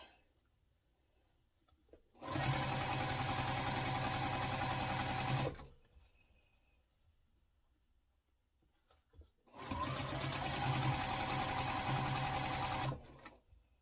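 A sewing machine stitching quilt blocks runs in two steady bursts of about three seconds each, a close, even whirring hum with quiet pauses between, no voices.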